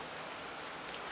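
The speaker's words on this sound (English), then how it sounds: "Wait for the rain to stop." Rain falling outside a workshop during a thunderstorm, a faint, steady hiss of drops on surfaces that continues evenly and quietly, with no voices.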